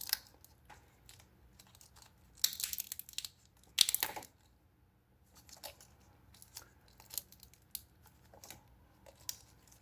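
Cutting back the wire covering on a car with electrical faults, a few sharp crunchy snips and cracks in short bursts, close by against a quiet background.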